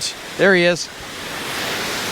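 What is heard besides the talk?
waterfall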